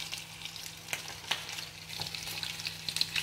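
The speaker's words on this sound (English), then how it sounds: "So now I'm going to stir fry the vegetable and all the ingredients" Vegetables with chives, ginger, onion and garlic sizzle quietly in a pan, a faint crackling fry with a few clinking stirs of a utensil, heard up close and alone.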